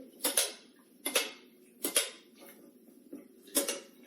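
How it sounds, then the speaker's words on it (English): Two containers of water being stirred, with four separate clinking, sloshing strokes against the vessels, close and fairly faint, spaced about a second apart. "I'm going to give them both a good stir."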